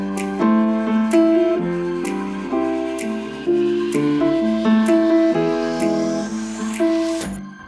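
A dry keys piano part, recorded without effects or editing, plays rhythmic chords with moving melody notes, close and unpolished, ending on a rising sweep.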